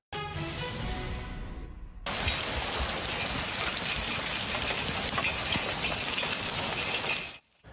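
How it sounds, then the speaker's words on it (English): Hail pounding down during a severe storm in Maryland that knocked over trees, a dense, loud, hissing clatter of stones that begins abruptly after a tonal lead-in and stops sharply near the end. "You see the hail right there,"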